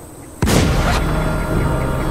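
Gunfire in The War Z video game, a single loud sharp blast with a ringing broadband tail that stays loud and noisy afterward.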